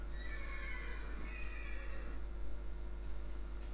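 A Minecraft horse whinnies in a drawn-out, wavering neigh, loud and close, with light hoof clip-clop from the video game over a steady background hum.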